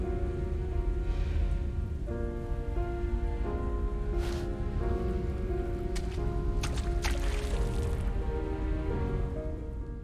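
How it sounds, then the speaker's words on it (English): Steady rain falls in the city streets of the video game Halo 3: ODST, a soft continuous patter under sustained musical tones, with a few brief sharper splashes. "the only sound around is the thunder, rain, and the sound of your own footsteps"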